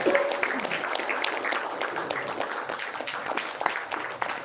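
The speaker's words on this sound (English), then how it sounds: "A big clap for Sachin Gaikwad sir" An audience at an international conference applauds a speaker, with dense, sustained clapping that continues steadily and fades at the very end.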